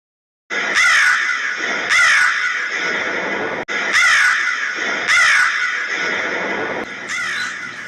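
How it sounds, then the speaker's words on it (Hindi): Several cartoon crows caw loudly in repeated harsh, off-key bursts, roughly one every second or so, close by with no other voices. "बंद करो इन बेसुरे कौओं का शोर"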